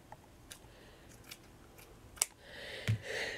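Scissors snip pieces for a shabby chic vintage paper flower, a few faint, sparse cuts and clicks in a quiet room, with light rustling of material near the end.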